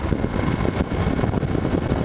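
Royal Enfield Himalayan motorcycle engine running at low revs while being broken in, a steady close throbbing rumble with no talk.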